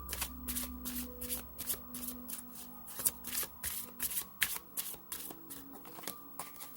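Tarot cards shuffled by hand at close range, a steady series of crisp riffling bursts in a regular rhythm, quiet and alone with no talk.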